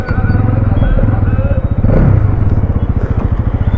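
A Bajaj Pulsar NS200 motorcycle engine runs loud and close with a fast, even thumping idle and a brief rev in the middle, with a voice speaking over it.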